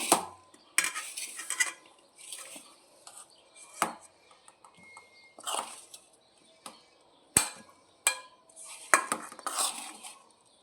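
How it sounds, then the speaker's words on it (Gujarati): Dry potato curry being served onto a plate, with a spoon repeatedly scraping and clinking against the dish in short, irregular strokes, close and clear with no talking. "હાલો આ ડીશમાં લઈ લઉં બટેકાની સૂકી ભાજી."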